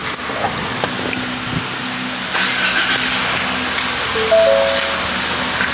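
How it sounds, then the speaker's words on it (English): A car being started inside a detailing shop: quiet background at first, then the engine catches and settles into a steady, close idle hum with a slight rise near the end. No one speaks. "Let me go ahead and turn on the car first."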